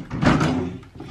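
A drawer in a makeup storage unit slides open or shut with a short scraping rumble and soft thunk, close and moderately loud, lasting under a second.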